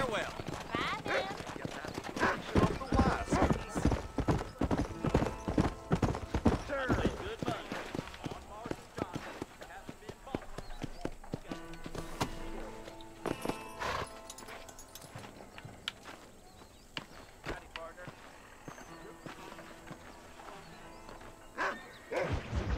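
Horse hooves clip-clopping in Red Dead Redemption, a dense run of rhythmic hoofbeats fading out partway through, followed by quieter game ambience, with someone talking over it.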